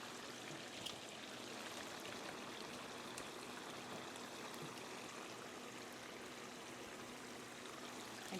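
Water drips and trickles steadily from a crab-feast boiling pot, a faint continuous patter like light rain with a few slightly louder drops, no voices.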